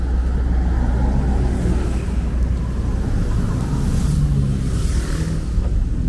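A songthaew truck with two rear benches drives through Pattaya, its engine rumbling steadily up close with continuous broadband road and wind noise and no gaps.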